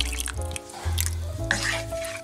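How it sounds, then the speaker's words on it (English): Half a can of water poured into a pot of taco soup with tomato sauce, a close gurgling, dripping pour that splashes in short bursts as the pot fills. "Plus, I'm gonna start with 1/2 can of water."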